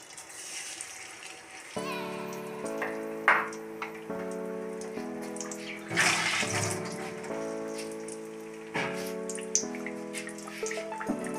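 Battered food crackles and sizzles in hot coconut oil, a steady rain-like hiss under background music with a rhythmic pattern of tones.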